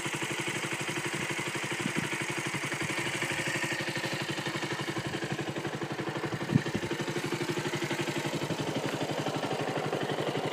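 A 2013 KTM Duke 125 motorcycle with its stock exhaust idles steadily up close, a continuous even putter with a faint clatter and one brief knock partway through, no voices.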